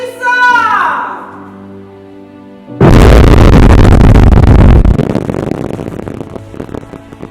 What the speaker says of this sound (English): The training officer, or learners, will then perform a blasting procedure before setting off the charge and blasting the